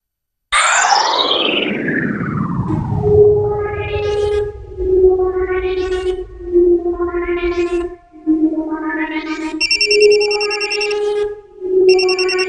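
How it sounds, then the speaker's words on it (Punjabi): A phone ringtone plays loud and near: a falling electronic swoop, then repeated rising chime phrases with echo. "ਆ ਦੇਖੋ ਫੋਨ ਆ ਗਿਆ।"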